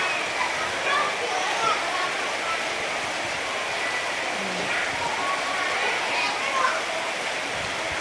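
Rain falls steadily in a dense, even hiss, a soft continuous patter close by with no breaks.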